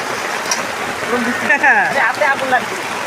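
Steady rain hisses and patters throughout, with people talking over it partway through, while chicken is cooked outdoors in the rain.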